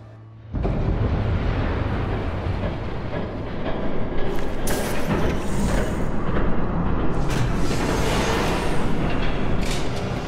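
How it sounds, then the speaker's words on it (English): A train rumbles in from a sudden start in a Batman video game, a loud, sustained roar of rolling rail noise that swells and stays heavy, with brighter rattling bursts layered on top. "There's a train coming. Take cover."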